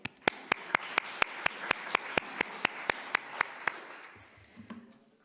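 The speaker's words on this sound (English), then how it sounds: "deserve at least a second round of applause for bringing us all together here." Audience at an international conference on ocean and human health claps for the organizers: a run of sharp, evenly spaced claps, fairly close and clear, fading out near the end.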